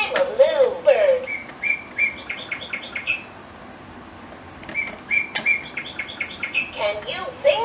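Electronic bird chirps and tweets from a VTech Roly Poly Learning Tree toy come in two bursts of quick repeated chirps with a quiet gap between them, close and fairly loud.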